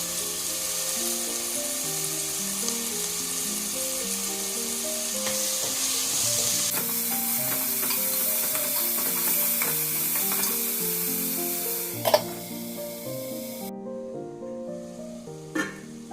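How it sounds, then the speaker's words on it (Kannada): Onions and tomatoes fry in a pan for palak dal, a steady close sizzle joined by soft stirring scrapes and a couple of sharper knocks near the end, while a repeating melodic tone plays underneath. "ಈಗ ಟೊಮೆಟೊ ಹಾಕ್ತಾ ಇದ್ದೀನಿ ಟೊಮೆಟೊ ಮೆತ್ತಗಾಗಬೇಕು ಅಲ್ಲಿ ತನಕ ಹುರ್ಕೋಬೇಕು"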